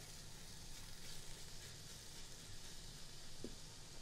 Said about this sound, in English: Got the sizzle.